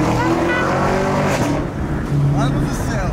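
A Chevrolet Camaro accelerating hard, a loud, close engine roar rising in pitch through the revs, with voices talking over it.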